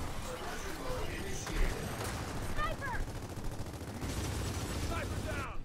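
Sniper gunfire in the video game Gears of War 4, a dense run of sharp shots and blasts mixed with in-game noise, with voices talking over the action.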